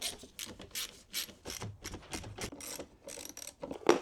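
Screws are backed out of a Porsche air intake with a ratcheting tool, a run of close, quick clicking and rasping bursts in irregular rhythm, faint overall, with no talking.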